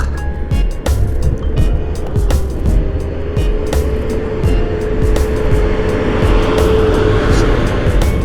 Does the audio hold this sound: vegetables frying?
no